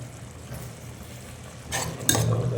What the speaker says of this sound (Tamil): இது இப்போ மூடி ஓப்பன் பண்ணிடுறோம்